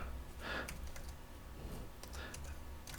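Someone types on a computer keyboard, quiet close-up clatter coming in two short bursts of rapid keystrokes with a pause between them.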